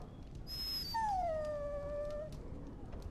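A dog whines in the video game Dragon Age Origins: a short high yelp, then one drawn-out, falling whimper, fairly quiet over a low background hum.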